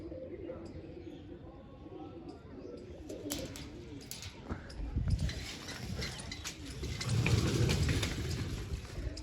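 Pet pigeons kept in a coop give soft, low cooing calls at moderate distance, the sound swelling in the second half amid scattered rustling and background noise.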